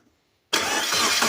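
An old project vehicle's engine is cranked over, a loud, close starter-motor whir that bursts in suddenly after half a second of silence and grinds on steadily.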